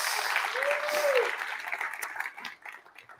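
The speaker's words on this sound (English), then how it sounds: "Give yourselves a round of applause" Audience clapping in a large jazz venue during a talk, a dense steady wash of hands that thins and fades toward the end, with voices mixed into the crowd.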